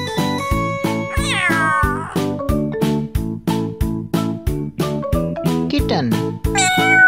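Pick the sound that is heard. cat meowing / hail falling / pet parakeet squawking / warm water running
cat meowing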